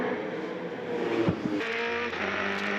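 Holden Racing Team Commodore race car with Mark Skaife driving, its engine roaring loud and steady from on board, with a brief dip and shift around the middle before the drone carries on.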